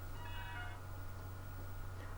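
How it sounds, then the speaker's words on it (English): A faint, brief electronic chime of a few tones as a camera turns itself off, over a low steady hum, then quiet background hum. "that was the sound of my camera turning itself off."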